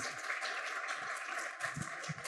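An audience applauds steadily and fairly loudly, a dense wash of clapping that carries on without pause, with a few low murmurs underneath.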